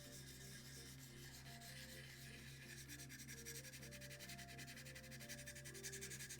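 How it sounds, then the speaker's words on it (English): Sandpaper rubs paint off a Moominhouse model to give it a worn look, a steady, continuous close-up scraping that never pauses, with a faint tonal hum behind it. "let's apply a tiny bit of sandpaper"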